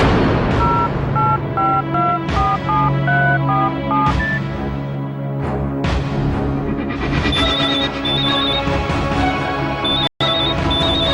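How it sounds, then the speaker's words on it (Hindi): Telephone being dialed, a quick run of short keypad tones in an uneven rhythm, close and clear over a dramatic music score, followed by a sharp cut. "मैं उसे फोन करता हूँ।"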